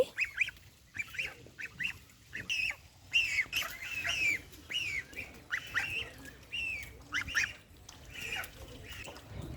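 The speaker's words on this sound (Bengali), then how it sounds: "এই আমি একটা একটা করে রাজহাঁস ছেড়ে দিচ্ছি" Farm geese are let out one by one, with ducks nearby, giving repeated nasal honks in uneven bursts. The calls are close and fairly loud over soft background noise.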